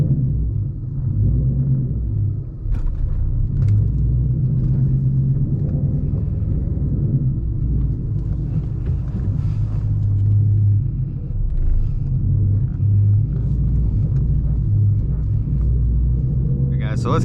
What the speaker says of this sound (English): that cold start is no joke. So let it idle down for a second.